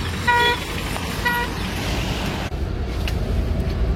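A Laxmi Holidays coach bus pulls in at a roadside stop in Rishikesh, sounding two short horn toots over steady engine and traffic rumble, fairly close.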